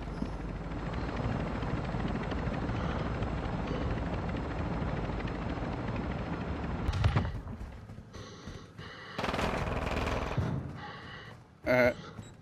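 Helicopter in a video game, a steady whirring rotor drone under voices for several seconds, then broken by sharper game sounds and bursts as people keep talking.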